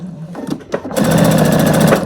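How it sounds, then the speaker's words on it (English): A sewing machine quilts through a denim placemat made from scrap denim, a few short stitching bursts giving way to a steady, loud, continuous run of rapid needle strokes. "And I'm going to quilt right through this gap."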